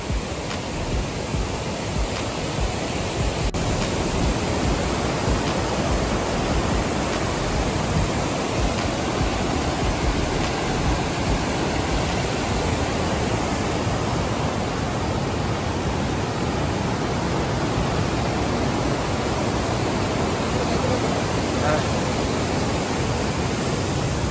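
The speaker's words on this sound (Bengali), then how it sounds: "শুধু ঝর্ণার যে শব্দটা, এখন বৃষ্টি হচ্ছে, ঝর্ণার শব্দটা শুধু দেখো।" A waterfall in Sri Lanka roars steadily in the rain, a dense, unbroken rush of falling water that stays loud and close for the whole stretch with no voices over it.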